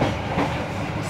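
A passenger train rolls through Semarang Poncol station, giving a steady, close rumble of wheels and carriage noise with faint clickety-clack over a dense low roar, continuous and unbroken.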